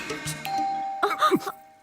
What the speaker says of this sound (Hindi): घंटी बजा के डिस्टर्ब क्यों किया?